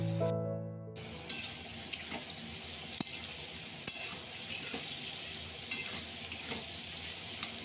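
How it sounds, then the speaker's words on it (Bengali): Carrots and beans frying together in white oil: a steady crackling sizzle with occasional sharp pops and stirring scrapes, close and continuous, with no talking. "আর এখন গাজর বিনস সমস্ত একসাথে খুব ভালো করে সাদা তেল দিয়ে ভেজে নিচ্ছি।"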